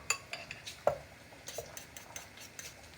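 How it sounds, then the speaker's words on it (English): A utensil stirs and clinks against a bowl while Parmesan cheese is mixed into carbonara. The taps and scrapes come close and irregular, one louder clink among them, with no voices. "And mix all of that, incorporate it together as one."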